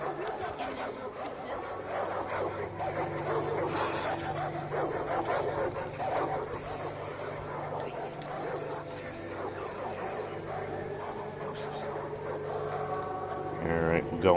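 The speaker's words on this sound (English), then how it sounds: "Dogs, yay." Dogs barking, yipping and whimpering in the video game Far Cry 5, a busy, continuous mix of repeated barks and whines with voices and other game sounds layered underneath.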